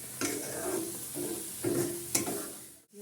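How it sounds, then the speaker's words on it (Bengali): A spice paste fries in oil in a pan, with soft sizzling and four or five distinct scraping strokes of stirring, quiet and close. "শুকিয়ে যাওয়া পর্যন্ত এটাকে তেলের উপরে নাড়তে হবে।"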